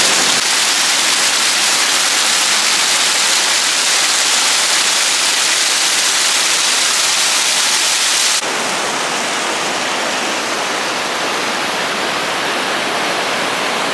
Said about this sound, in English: get to see the waterfall